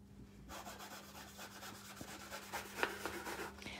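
Gilding flakes being rubbed off a page in an art journal by hand, a soft continuous dry scuffing and brushing close up, with a few small crackling flicks near the end and no talk.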